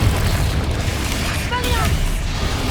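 A Confringo blasting spell in Hogwarts Legacy on PS5 goes off as a heavy, booming explosion with a deep low rumble, set amid dense game combat noise with a brief spoken voice near the middle.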